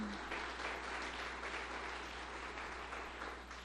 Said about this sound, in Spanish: un aplauso por favor para cibercolegio